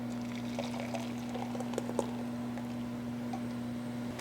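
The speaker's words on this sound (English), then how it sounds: "Now, I'm gonna pour this in." Melted chocolate mixture poured into a pan over low-medium heat for a plant-based hot chocolate, a soft steady liquid pour close by with a few faint splashy ticks, no talking.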